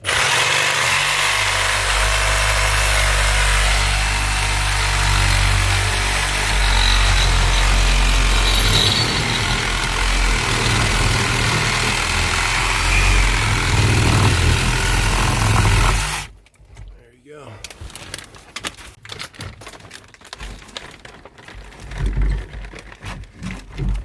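A power tool grinds loudly and steadily through galvanized pipe for about sixteen seconds, then cuts off abruptly, leaving quieter scattered clicks and handling noises.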